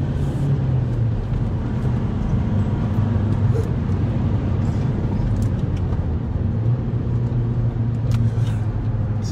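A van drives around the Nuremberg racetrack with a continuous low engine rumble and road noise from inside the cab, rising and falling gently, under occasional voices.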